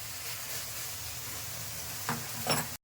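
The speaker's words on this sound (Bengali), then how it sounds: "শুকিয়ে গিয়ে যে তেল ছাড়ছে এখন কড়াইতে, তা একটু ভাজা ভাজা হোক" Bottle gourd cooked with shrimp fries in oil in a wok as the water dries off, a close, steady sizzling hiss with a couple of brief stirring scrapes near the end before it stops, with no talk.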